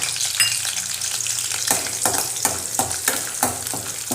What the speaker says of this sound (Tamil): இது எல்லாமே வந்து நல்லா ஃப்ரை ஆகட்டும்